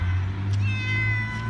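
A stray cat meows close by outdoors, a drawn-out tonal call rising over a steady low background hum, with no talking.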